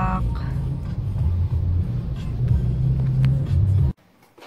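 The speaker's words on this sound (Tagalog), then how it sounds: "Traffic pa rin sa Marcos dahil sa mga truck." Heavy road traffic with trucks on a congested city road, a constant low engine rumble passing nearby that cuts off abruptly near the end, with talk faintly mixed in.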